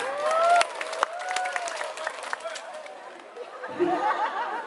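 Audience at a Maulid Nabi sermon in Aceh clapping briefly together, mixed with chatter and a few chuckles, fairly close and moderately loud, with a voice speaking over it.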